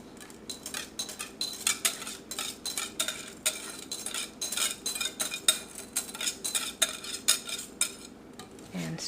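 A spoon scrapes and clinks against a bowl while stirring a mashed potato, milk and salt mixture into yeast for Chamorro sweet bread, in quick irregular close strokes with rhythmic knocks and no talking.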